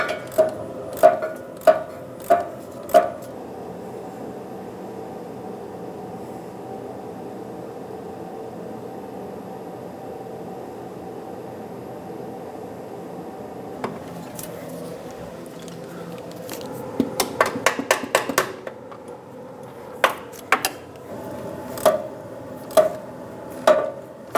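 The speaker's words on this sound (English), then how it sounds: "Just ratchet this all the way off." Ratchet with a deep socket loosening a rusty rear shock absorber nut on a 1996-2002 Toyota 4Runner: short bursts of quick clicking recur at the start, middle and end, close and fairly loud over a quiet background.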